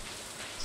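Rain falling in the farming video game Stardew Valley, a faint, even patter and hiss of raindrops, soft and continuous over a very short stretch, without voices.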